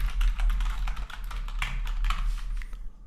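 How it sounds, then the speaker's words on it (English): Rapid typing on a computer keyboard, a steady patter of light key clicks over a low hum, close and fairly quiet, with no speech. "I'll simply type in completion rate"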